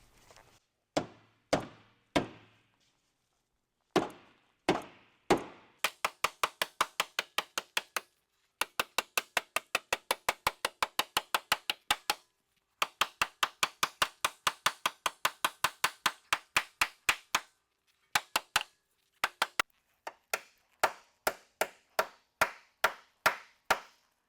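Hammer blows folding over the pinch weld on a 5th-gen Toyota 4Runner for oversized tire clearance: sharp metallic strikes, first slow and spaced, then long rapid runs of even taps broken by short pauses, close and alone.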